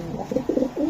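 Racing pigeons coo in a steady run of soft, rounded calls, several overlapping phrases close by with no talk over them.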